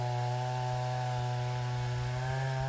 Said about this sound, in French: La pauvre tronçonneuse, c'est pas adapté à ça